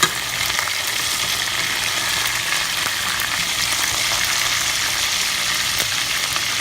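Chicken pieces browning in a hot pan for brown stew chicken, turned over and frying: a loud, dense, continuous sizzle and crackle close up, steady throughout with no voices.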